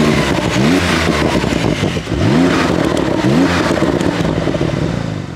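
A Porsche 911 Sport Classic flat-six breathing through its sport exhaust revs hard three times in quick succession, each blip rising and falling loudly and close, with a rough idle rumble between the revs.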